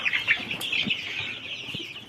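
Soft, busy clucking and peeping from a group of young turkey poults, with a few faint flutters, close and continuous.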